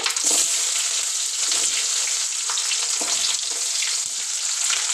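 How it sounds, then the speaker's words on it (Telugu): Onion, curry leaves, cumin and mustard seeds frying in hot oil, a steady close sizzle with scattered crackles and pops running through the whole stretch. "నూనె అయితే బాగా వేడైపోయింది కరివేపాకు అలాగే జీలకర్ర ఆవాలు అలాగే ఉల్లిగడ్డ"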